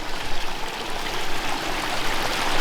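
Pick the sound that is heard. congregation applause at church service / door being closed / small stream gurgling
small stream gurgling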